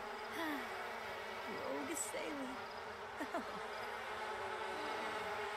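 Bees in a video game buzz steadily at a low level throughout, with brief chirpy sound effects scattered over the drone and soft game ambience behind.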